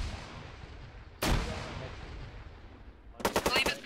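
Gunfire in a military video game: a single heavy, booming shot echoes and fades, then a rapid burst of several sharp automatic rounds follows, moderately loud over a low background rumble.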